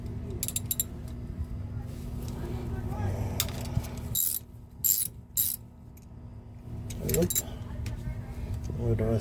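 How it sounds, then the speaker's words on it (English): A ratchet turns a 10 mm bolt on the rear differential of a 2002 Toyota 4Runner, giving intermittent close metallic clicks and clatter, with someone talking nearby. "I got my ratchet, and it's a 10"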